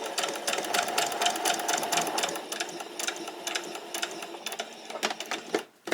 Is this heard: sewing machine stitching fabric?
yes